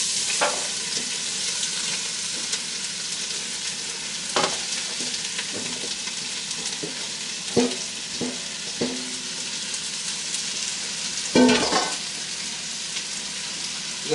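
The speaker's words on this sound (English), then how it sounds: "I'm going to go ahead and throw my vegetables in here." Vegetables fry in a soup pot for ham and lentil soup, giving a steady, close sizzle throughout with a few sharp clanks and stirring knocks from utensils against the pot.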